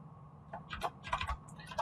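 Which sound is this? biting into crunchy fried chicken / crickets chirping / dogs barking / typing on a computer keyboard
typing on a computer keyboard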